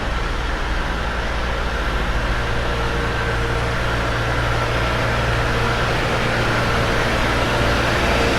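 Buses idle on a New York City street: a loud, steady engine rumble with a droning low hum and broad traffic noise, continuous and close throughout.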